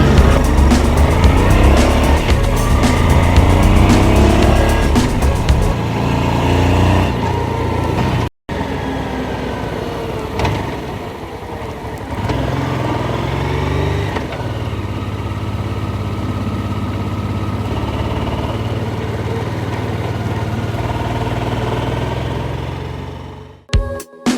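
A Honda 700 Deauville motorcycle out on a Sunday ride, its engine droning steadily and loudly throughout with wind rush, briefly cutting out before resuming at an even pace.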